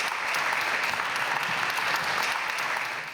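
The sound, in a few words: applause for a literature prize winner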